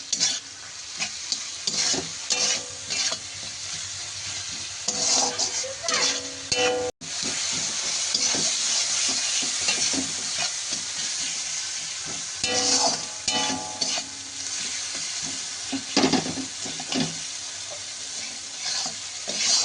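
Spice paste with a little sugar stir-fried in oil in a pan for a pointed gourd and prawn curry: steady sizzling and frying with repeated scraping and clinking of a spatula against metal, close and continuous.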